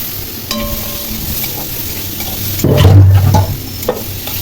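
Prawns are stirred into vegetables frying in a pan with turmeric, giving a steady sizzle with a few light scrapes and a louder burst of frying near the end; no one speaks.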